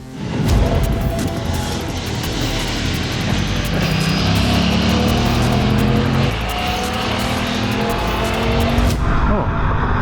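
An Aprilia RS457 motorcycle lapping a race track, its engine revving loud and close with rising and falling pitch through the gears, then cutting off sharply at the end.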